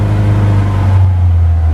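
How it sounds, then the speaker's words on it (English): The engine of a Lada VAZ-2101 idles while warming up after a choke start, a loud, steady low drone with an even throb that holds unchanged across a short stretch. "now that the car is started, we're letting it warm up"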